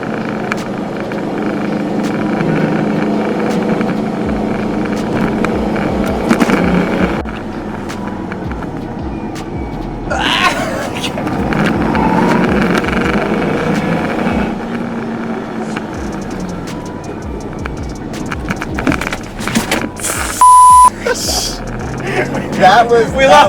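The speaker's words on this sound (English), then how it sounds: "just feeling out how the car feels in the corners" Pontiac Trans Am WS6 with new coilovers driving through canyon corners, engine droning and rising and falling as it works the bends, heard from inside the cabin with people talking over it.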